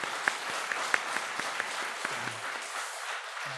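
A congregation claps together during a Sunday worship service at a full gospel church in Jeju, producing a steady, moderately loud patter of many hands with a few sharper individual claps standing out, with no talking.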